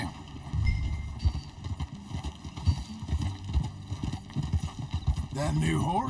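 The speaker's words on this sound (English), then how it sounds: "Get on your horse, John." Rhythmic horse hoofbeats clip-clop steadily at a trot in the video game Red Dead Redemption 2, mixed with low rumbling and other game sounds, moderately loud throughout.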